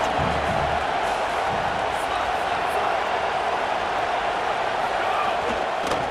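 A stadium crowd in the video game College Football 27 sending up a loud, steady roar of cheering that fills the whole span, with broadcast commentary woven through it.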